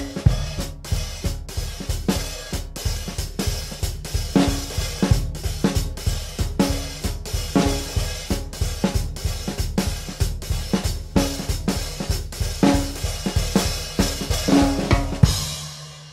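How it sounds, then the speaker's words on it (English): A drum set plays a melody in a swing style, with a steady stream of crisp stick hits and cymbal strokes in a loping rhythm that stops abruptly at the end, no talking. "So if I was to play that in a swing style, it would kind of sound like this."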